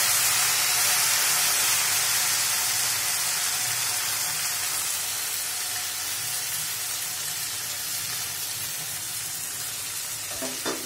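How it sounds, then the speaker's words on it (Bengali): Chopped coriander leaves frying in oil with lightly browned garlic, a loud, dense, continuous sizzle and hiss that eases slightly over time, close up with no voices. "ধনেপাতাটা হালকা ভাজা ভাজা করব।"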